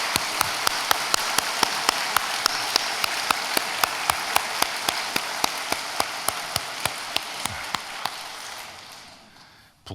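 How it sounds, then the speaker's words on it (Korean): A church congregation applauds warmly during a Sunday service, a dense steady wash of many hands clapping that fades out at the end. "우리 뜨거운 박수로 한번 보내주시죠."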